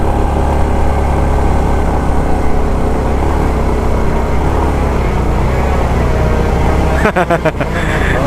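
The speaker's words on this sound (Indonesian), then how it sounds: "Ini suaranya mesin kayu teman-teman, bukan air eking ya." A wood-cutting machine felling trees drones loudly and steadily, a thick continuous engine roar that falters briefly near the end.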